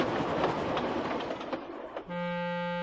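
Steam engine Gordon rumbles and clatters along the rails at speed, then a loud, steady whistle blast rings out for the final stretch.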